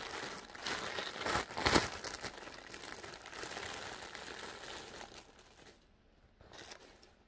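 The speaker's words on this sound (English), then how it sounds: "You can take it out of the plastic bag." A plastic bag crinkles and rustles as a delayed Christmas present is pulled out of it, with a louder burst of crumpling early on and softer handling afterwards.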